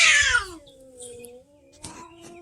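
A house cat lets out a loud, drawn-out meow, followed by a shorter, quieter call.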